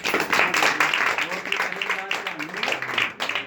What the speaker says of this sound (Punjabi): ਤਾਲੀ ਮਾਰੀਏ ਜ਼ੋਰ ਦੀ।